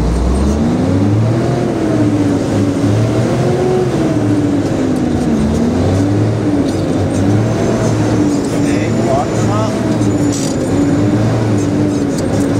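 A car engine runs at speed without shifting gears, its droning pitch rising and falling steadily and loudly throughout.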